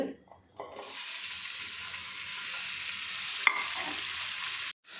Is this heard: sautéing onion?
yes